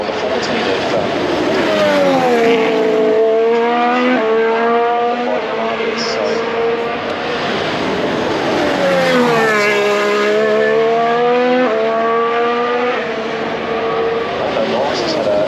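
A Formula 1 car at Turn 1 during second practice at the 2026 Australian Grand Prix, its high engine note rising and falling twice as it sweeps past the spectator area, with constant crowd and loudspeaker talk underneath.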